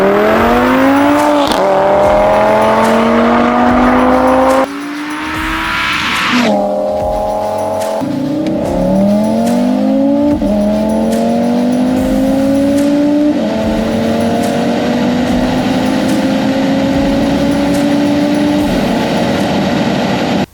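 An Audi RS3 with no aero kit accelerates hard on a drag run, its engine rising loud and close through several upshifts, each gear's climbing pitch briefly dropping before rising again across the whole stretch.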